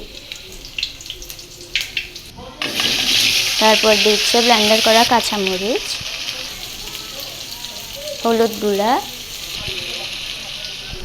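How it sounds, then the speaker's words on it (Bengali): Chopped onions and spices with blended green chilli and turmeric hit hot oil in a pot, raising a loud, steady sizzle that persists under a voice speaking over it. "তেল গরম হয়ে গেছে এখন দিয়ে দিচ্ছে পেঁয়াজ কুচি"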